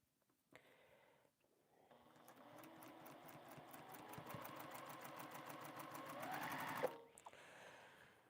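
A sewing machine stitches quilt pieces in one long steady run, its rapid even needle chatter building slightly before stopping, with a brief shorter burst of stitching at the start.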